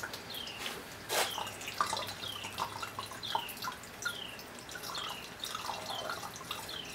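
Water poured into a row of connected tanks, a quiet run of splashy drips and trickles with irregular plinks over a soft continuous flow.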